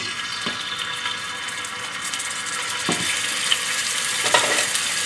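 Ginger and garlic sizzle in a little vegetable oil in a pan over medium-high heat, a steady hiss throughout, with a few brief scraping stirs.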